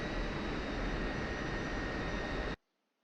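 An F-16C Viper jet taxies in a flight simulator game, a steady loud broadband engine roar with a high whine that cuts off abruptly near the end.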